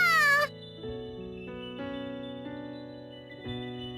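One high, bright meow from a cat in the video game Bravely Second opens the clip, then gives way to steady synthesized game music with sustained tones.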